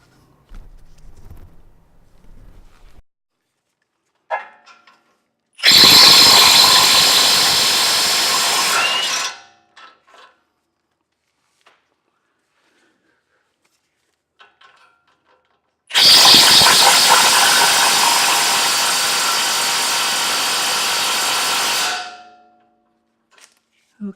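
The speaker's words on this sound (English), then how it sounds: "next I'm going to remove these two 19 millimeter bolts at the bottom" A power tool drives hard against 19 mm bolts on a Toyota 4Runner CV axle, with two loud sustained bursts of several seconds each, separated by quiet gaps and small clanks.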